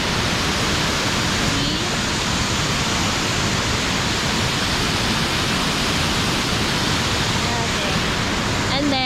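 Mantayupan Falls in southern Cebu roars as a dense, steady rush of falling water, loud and unbroken throughout, with a few faint voices barely rising above it.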